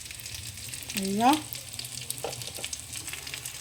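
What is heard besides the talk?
chicken frying in butter for butter chicken gravy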